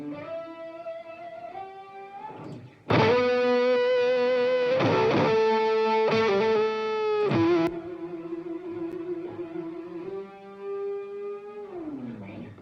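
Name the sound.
guitar reverb effect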